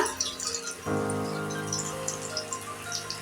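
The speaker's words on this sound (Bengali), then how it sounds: "তেল গরম হয়ে গেল এবারে দিয়ে দিচ্ছি তেলে বেগুনটা" Whole eggplant dropped into hot oil, setting off a sudden, steady crackling sizzle with scattered bright pops, close and continuous after a brief quiet start.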